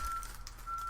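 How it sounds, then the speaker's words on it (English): A garbage truck reverses outside in the early morning, its backup alarm giving repeated high-pitched beeps, faint and distant behind a low rumbling hum. "Hey, that's my garbage truck you're probably hearing outside."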